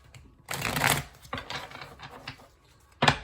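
Tarot cards being shuffled during a psychic reading, heard as a few brisk riffling bursts close by, with short pauses between them and no talk.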